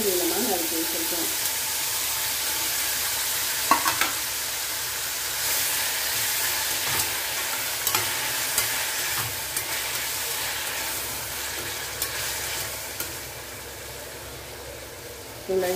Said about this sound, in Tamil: இப்போது தக்காளி நல்லா வதங்கி வரட்டும், பார்க்கலாம்.